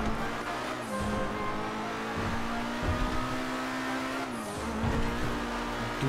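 A tuned Lamborghini in GTA RP roars as it accelerates, its engine pitch climbing steadily before a gear shift, then climbing again, loud and continuous with a hint of tire noise.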